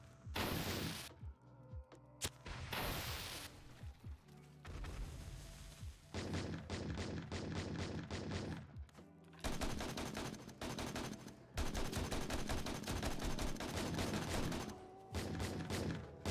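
Gunfire in 7 Days to Die with the Zombiedayz mod comes as loud bursts of rapid automatic shots broken by short pauses, a long stretch of fast, evenly spaced rattling firing with heavy thuds mixed in.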